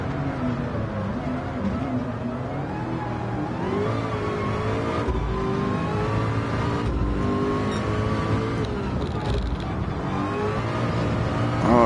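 A Toyota race car engine in a Le Mans video game holds a loud, steady high-revving drone that rises and falls through gear changes, running continuously up close with no talk.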